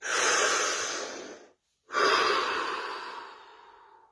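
A deep breath taken twice, each a long, close, airy rush that starts strong and slowly fades, separated by a brief silent pause, with no talking.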